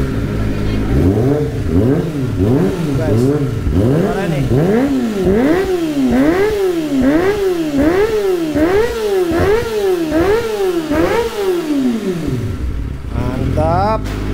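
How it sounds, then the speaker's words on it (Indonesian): Kawasaki ZX25R motorcycle fitted with Yoshimura/Akrapovic exhaust revving repeatedly, loud rhythmic rising and falling throttle blips close by, with people talking over it. "Suara Yoshimura, Akrapovic emang yang terbaik guys ya."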